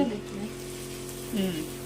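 Thin wheat flour chips sizzling steadily in hot oil, a continuous close frying hiss with a brief louder burst of bubbling partway through, no voices.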